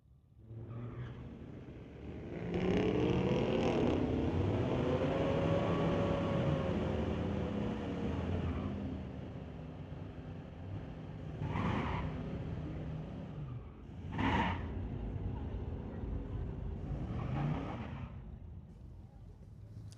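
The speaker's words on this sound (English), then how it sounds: "Kai Johnson, the 2012 Camaro in the Tower Lane, going against Cam Penner, the 2006 Dodge Charger" A 2012 Camaro and a 2006 Dodge Charger line up for a drag race, engines roaring and revving loudly, with sharp bursts of acceleration and tire noise under a public-address voice.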